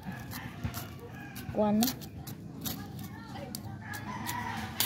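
Backyard chickens cluck steadily close by while a rooster crows once loudly, with a person talking briefly over the flock.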